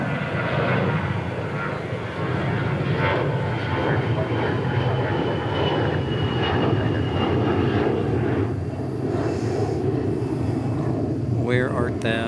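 British Airways jet at DFW International Airport on a hot night, a steady loud engine roar running throughout, with people talking over it and a brief chirp near the end.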